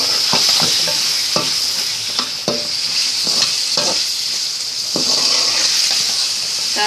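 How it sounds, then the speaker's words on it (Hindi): Chip-cut potatoes being roasted in a karahi with spices: loud, steady sizzling right up close, broken by repeated sharp spatula scrapes and clatters against the pan at uneven intervals. "इनको 1-2 मिनट तक हम भूनेंगे।"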